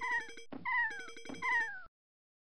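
A human voice imitates a dying cat with three drawn-out, wavering meow-like wails that slide downward in pitch, loud and close, with short gaps between them and no other talk.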